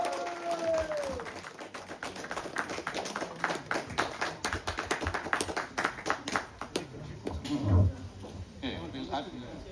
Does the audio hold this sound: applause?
yes